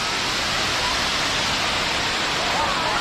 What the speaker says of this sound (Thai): ตรงนี้ น้ำไหลลงมา ตรงบันได สวยงามครับ